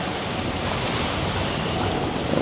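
Ocean waves wash continuously onto Sanur Beach in Bali, a broad, steady roar of surf blended with wind noise buffeting the microphone, with no talk.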